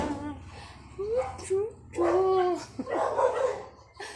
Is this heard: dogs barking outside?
yes